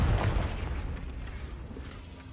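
Confringo spell explosion in Hogwarts Legacy, a single deep boom up front that fades out into a low rumbling tail over a couple of seconds.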